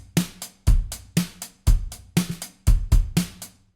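A punchy drum loop repeats steadily, kick and snare hits alternating with a quieter ghost-note tap between beats, loud and close.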